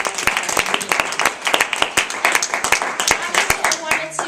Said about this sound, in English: Everybody, let's give a nice round of applause